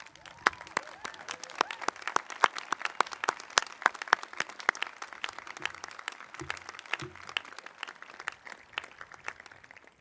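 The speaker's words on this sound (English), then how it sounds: "I'd like to ask the faculty and staff to stand and give them a round of applause" Faculty and staff at a 2017 commencement ceremony stand and clap, giving a fairly faint round of applause. Separate sharp claps ring out steadily for about ten seconds, with a few low thumps midway.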